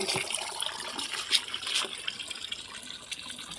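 Water draining from soaked rice in a home kitchen, a light uneven trickle and splash with a few brief sharp drips, fairly faint and close, with no speech.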